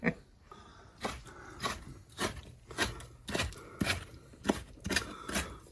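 A dog nearby makes short, rhythmic snuffling and huffing sounds, repeating every half second or so with brief pauses.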